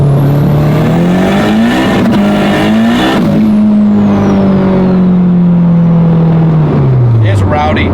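A 600whp Honda Civic engine revs on a dyno, loud and close, its pitch climbing through several rising pulls with brief drops between shifts before winding down, as people talk over it.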